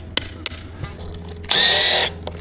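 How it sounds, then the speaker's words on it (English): A cordless power drill runs in one close, loud burst of about half a second at a job site where a sidewalk is being poured, with a few sharp clicks and knocks before and after. "I meant the drill when you're done with it."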